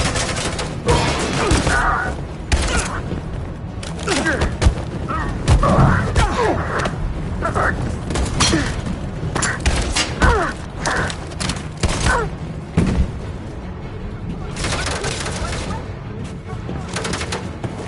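Gunfire in the video game Detroit: Become Human: dense, loud bursts of shots and impacts keep coming throughout, with voices shouting over the firefight.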